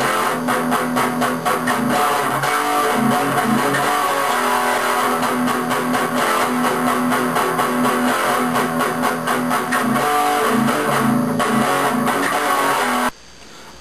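Distorted electric guitar chugging a verse riff, dense and loud with steady rhythmic palm-muted attacks under full band-like saturation, running continuously before cutting off abruptly near the end.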